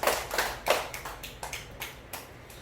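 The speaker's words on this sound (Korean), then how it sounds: "하나님께 영광의 박수 한번 드립니다." A church congregation claps in a sermon, giving a loose, fairly quiet round of applause with scattered hand claps that fade after a few seconds.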